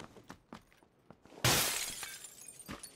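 Glass shatters in the video game PUBG, a sudden loud crash midway that rings and trails off over a second or more, preceded by a few faint scattered clicks and taps.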